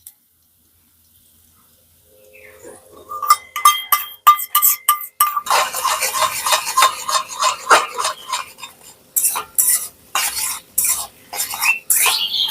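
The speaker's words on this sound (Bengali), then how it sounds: "ডিমটা ভালো করে সবজির সাথে নেড়ে নিচ্ছি" Beaten eggs stirred with vegetables in a pan, likely a potato and egg breakfast dish, with a spatula scraping and clinking steadily against the metal, loud and close after a short quiet opening.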